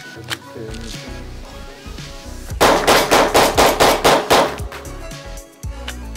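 Rapid series of about eight loud, close gunshots from a firearm lubricated with PAM cooking spray, fired in quick succession after quieter handling sounds, at an outdoor shooting session.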